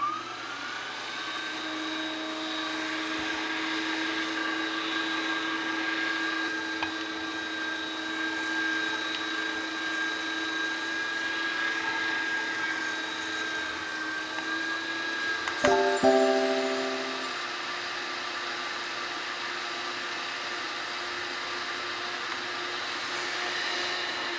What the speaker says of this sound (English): we just put it right through our meat grinder